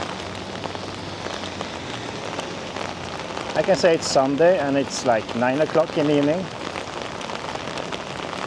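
Steady rain patters and hisses across the whole stretch on an evening street in BGC, with someone speaking briefly over it in the middle.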